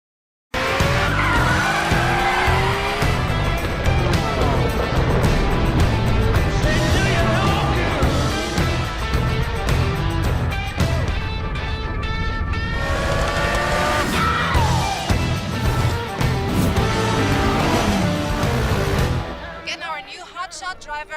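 Cars from The Crew racing game trailer: tires squeal and skid as race cars roar at high revs, loud and continuous with intense engine noise throughout, while a voice talks over the action.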